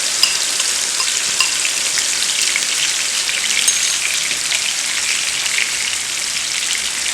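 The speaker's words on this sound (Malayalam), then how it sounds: "ഇനി നമുക്കിതിലേക്ക് നേരത്തെ എടുത്ത് വെച്ച് മാരിനേറ്റ് ചെയ്ത പ്രോൺ ഇതിലേക്ക് ഇട്ട് കൊടുക്കാം" Marinated prawns hit hot ghee in a pan over high flame for a Mangalorean-style ghee roast, producing a loud, steady, close-up sizzle that holds evenly throughout without any talking.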